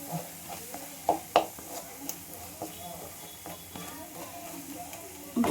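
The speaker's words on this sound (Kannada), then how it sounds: "ಧನಿಯಾ ಪುಡಿ 1/4 ಟೀ ಸ್ಪೂನು ಹಾಕಿ ಒಂದು ಸ್ವಲ್ಪ ಫ್ರೈ ಮಾಡಿ." Ground coriander powder frying briefly in a pan for mushroom gravy, a soft steady sizzle with occasional light stirring clicks and scrapes.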